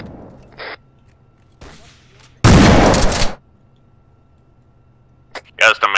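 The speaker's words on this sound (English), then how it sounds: "I just like how we keep lining up and fucking just unloading shotgun." Shotgun blasts in the Arma 3 military shooter during a squad defending a forward base, one loud close burst mid-clip with a sharper crack near the end, between stretches of quiet and faint radio chatter.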